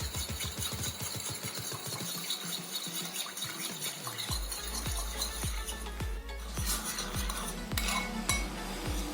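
A spoon or whisk clinks rhythmically against a bowl while maida flour batter for veg cutlets is mixed, a steady run of close metallic taps with no talking.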